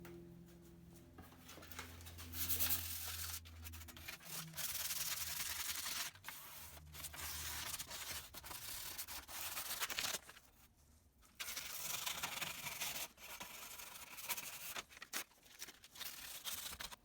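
Steady, rough abrasive scraping as paint is sanded off an old metal light fixture, running almost continuously with a few brief pauses and a low hum beneath.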